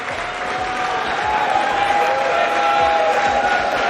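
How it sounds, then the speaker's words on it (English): Ironic applause from a pool crowd at the U.S. Open, sustained clapping with some cheering, filling the room from start to finish while a commentator talks over it. "Ironic applause."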